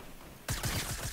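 Near silence gives way to a sudden burst of rapid automatic gunfire from Fortnite, with about five sharp, evenly spaced shots in quick succession and no talk over them.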